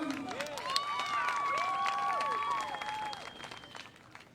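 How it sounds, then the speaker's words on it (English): Audience applause for a bluegrass band at a fiddlers' jamboree in Smithville, Tennessee: a steady patter of many hands clapping, with a voice speaking over it before it fades out. "give them a round of applause"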